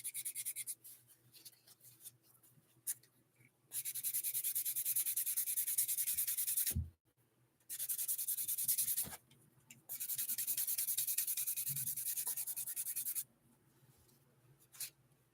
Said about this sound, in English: sanding away at the raccoon's back outer shell